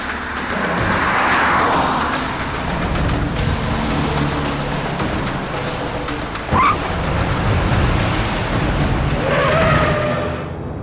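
A car engine drones steadily as it drives and turns toward a deserted area called Jagat Nagar, with a brief swerving screech partway through and background music.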